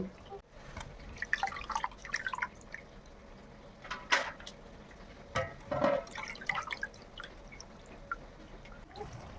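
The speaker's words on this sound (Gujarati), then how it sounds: "પછી એક બાઉલમાં આપણે પૌવા લઈને તેને સરખી રીતે વોશ કરીને આપણે તેને બહાર કાઢી લઈશું" Flattened rice (poha) being washed in a bowl of water: soft, close sloshing and dripping in uneven bursts, with a few sharper splashes and quiet kitchen background.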